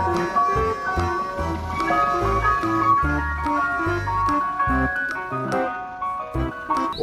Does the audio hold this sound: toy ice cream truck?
yes